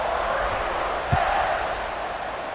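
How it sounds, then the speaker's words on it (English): Stadium crowd in College Football 26, Missouri vs. Auburn, fills the scene with a steady loud roar and murmur, holding even throughout with a brief thump near the middle and no clear voices on top. "this crowd is buzzing after that last score"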